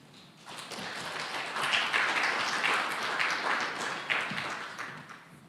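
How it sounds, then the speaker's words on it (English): Warm applause from a hackathon audience welcoming a speaker, a steady dense wash of many hands clapping that swells slightly in the middle and holds for several seconds before tapering. "let's please give a warm round of applause to Slava"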